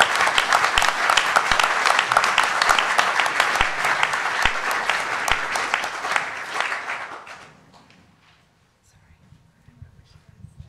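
A conference audience at a Cornwall real food and farming event gives a round of applause, dense and sustained for about seven seconds before dying away, followed by quiet with a faint voice.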